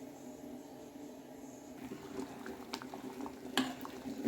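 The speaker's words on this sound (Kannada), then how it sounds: "ನೋಡಿ ಸಾಂಬಾರು ಕುದಿ ಹತ್ತಿದೆ" Spinach sambar simmering in a pot on the stove, a soft steady bubbling with faint pops and gurgles that grow a little livelier toward the end, with no talking.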